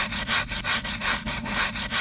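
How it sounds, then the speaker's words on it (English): Brush painting walnut wood stain onto the inside of an old garden pot: rhythmic scratchy strokes, about a dozen in two seconds, close and fairly loud with no voices. "So I'm gonna paint a little swatch of all three of these on the inside of the pot."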